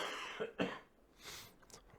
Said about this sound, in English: That feels like that cough's coming out of my ear.